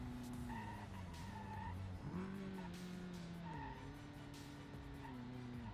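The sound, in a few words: car drifting, tires skidding in video game BeamNG Drive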